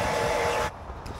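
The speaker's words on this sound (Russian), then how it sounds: "Строительный фен греет гораздо быстрее и нужно буквально несколько секунд." A heat gun blowing hot air onto inflatable boat material during a repair, a steady loud broadband whoosh that cuts off abruptly partway through, leaving quieter room background.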